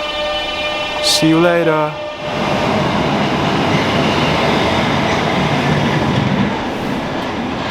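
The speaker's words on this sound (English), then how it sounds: "Goodbye, train." A train rumbles past nearby on a British railway line in Tunbridge Wells, with a steady, loud roar and rail clatter lasting several seconds, introduced by a horn-like tonal blast and a brief spoken farewell.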